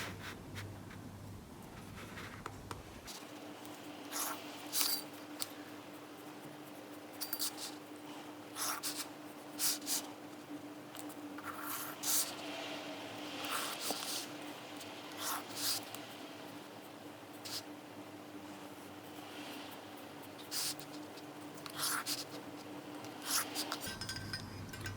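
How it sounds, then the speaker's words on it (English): Pencil scratches faint guide lines onto sketchbook paper for blackletter calligraphy, a soft, intermittent scraping of short strokes repeating steadily over a low background hum, close and quiet with no voices. "I'm going to use pencil for the guides so I can rub them out afterwards."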